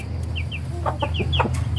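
Startled chicks and chickens in a small backyard pen give a brief burst of sharp peeps and clucks over a low background hum.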